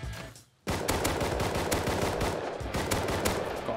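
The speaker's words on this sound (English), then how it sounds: "They're shooting at each other." Rapid bursts of gunfire from players shooting in the video game Rust, erupting after a brief lull into a dense, continuous volley of shots.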